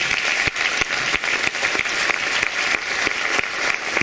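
An audience applauding in tribute to maestro Celso Garrido Lecca, steady loud clapping from a full hall sustained throughout with no pauses or voices.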